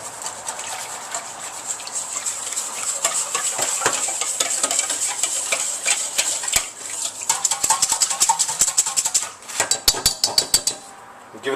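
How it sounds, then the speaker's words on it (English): Barbecue sauce with chili powder and spices being whisked in a bowl for baby back ribs, a steady clattering of the whisk against the bowl that grows into sharper, louder metallic taps toward the end, close up with no talking. "Now I'm going to whisk it around for a little bit."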